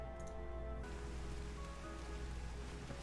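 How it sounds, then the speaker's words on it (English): Pouring rain in the Final Fantasy XIV game world, a steady broadband patter that holds evenly throughout at moderate loudness over a low ambient backdrop, with no one speaking. "And our friends are waiting out here in the pouring rain"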